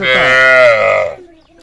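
A single loud, close moo from a dairy cow, drawn out for about a second before trailing off into quiet.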